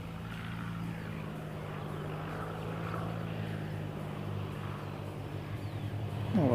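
A flight school propeller aircraft runs nearby: a faint, steady droning engine hum with a constant low tone, growing slightly louder toward the end.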